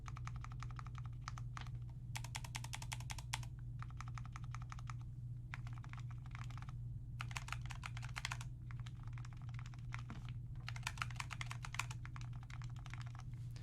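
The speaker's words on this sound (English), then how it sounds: "this is what happens when they're not lubed" Rapid clacky bursts of typing on a mechanical keyboard with unlubed switches, close and fairly loud, coming in uneven runs over a steady low hum.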